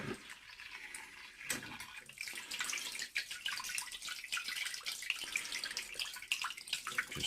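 Water runs steadily from a tap into a sink to soak a Soligor 200mm Newtonian telescope mirror, a soft continuous splashing stream with small irregular drips throughout, close and fairly quiet.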